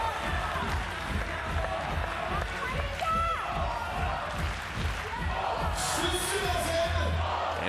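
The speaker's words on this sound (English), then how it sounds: "Everybody's cheering on Polska." Arena crowd at a women's FIBA 3x3 U23 World Cup basketball game, Greece versus Poland, cheering steadily for Poland, a continuous roar with sneaker squeaks and a commentator talking over it.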